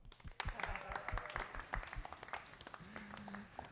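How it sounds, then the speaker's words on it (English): A few band members clap together at a live big band concert hall with no audience present, a brief soft patter of hands, fairly quiet and a little distant. "If there was an audience, we would all clap. So let's clap."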